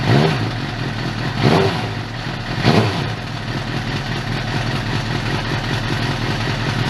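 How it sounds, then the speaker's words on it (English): A rebuilt 2007 Suzuki GSX-R 750 motorcycle engine idles steadily and a little lumpily after sitting unused, close and loud, with two brief revs rising out of the idle. "No hands. Bike is running."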